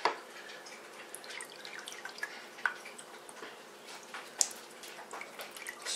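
Apple pie cider moonshine drips and spills in a quiet indoor setting, with faint, scattered drops and a few sharper plinks over a soft steady background.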